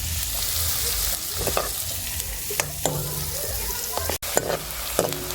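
Onions sizzle steadily in butter in a hot pan while a utensil scrapes and stirs now and then, close and continuous with no talking.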